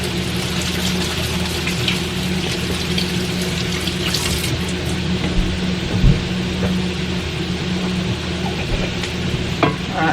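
Onions and mushrooms sizzle steadily in a pan while being stirred, giving a constant hiss with occasional scraping clunks from the utensil, close and fairly loud with no talking.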